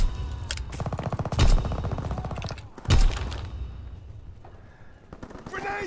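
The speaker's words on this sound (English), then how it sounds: "Sending mortar rounds." Mortar rounds exploding in the video game Call of Duty WWII: two heavy, booming blasts about a second and a half apart, loud and close, over continuous rattling gunfire.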